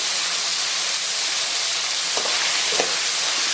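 Pumpkin pieces with turmeric and salt sizzle loudly and continuously in a hot pan, with a couple of faint stirring scrapes over the steady hiss.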